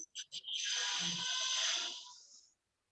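Phone ringtone going off during an online session, two short chirps followed by a sustained bright electronic tone lasting about two seconds, loud and close with no talking over it.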